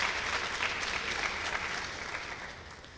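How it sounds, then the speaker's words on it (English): Applause from an audience at a pharmacy pledge ceremony, a steady wash of many hands clapping at moderate loudness, fading slightly toward the end, with no talk over it. "I think we can give her a round of applause"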